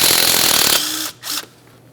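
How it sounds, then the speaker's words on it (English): A 12mm socket on an air ratchet backs out a brake flex hose mounting bolt on a 2011-2020 Toyota Sienna front strut: a loud, close burst of whirring and rattling, then a short second buzz. "To do this, we'll be using a 12mm to remove the mounting bolt."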